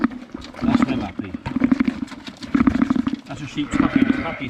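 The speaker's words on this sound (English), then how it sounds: "That's a sheep's happy sound." A sheep makes a contented, happy sound, a low rumbling grumble repeated in rhythmic bursts, close to the listener, mixed with rustling and shuffling noise.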